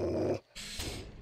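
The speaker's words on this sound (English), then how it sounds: "I hear a fucking dog." A dog growls in the survival video game 7 Days to Die, two close, rough bursts split by a short gap, with no talk over them.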